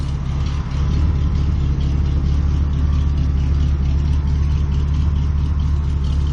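An old Studebaker fitted with a new exhaust rumbles steadily at low pitch, a deep near engine drone holding an even level as the car pulls away.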